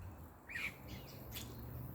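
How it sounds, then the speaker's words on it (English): Fig eater birds, a red-eyed oriole type, call from a fig tree with a brief squawking note and a few faint chirps over a quiet outdoor background. "there's the fig eater birds up here"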